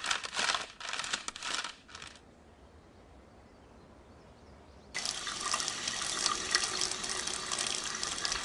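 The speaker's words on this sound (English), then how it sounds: "Hop in the tub so I can hose you down." Water gushes from a hose or tap into a bathtub in a few short bursts. After a quiet pause it returns as a loud, steady spray.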